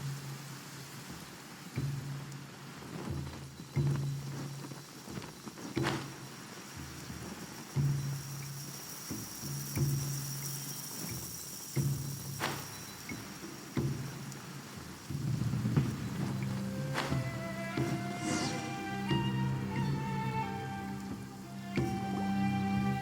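Rain pours in Genshin Impact's Sumeru region, a constant wash of drops with rumbling thunder, and a melodic musical phrase rises over the storm near the end.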